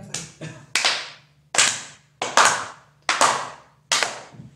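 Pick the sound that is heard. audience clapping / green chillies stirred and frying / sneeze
audience clapping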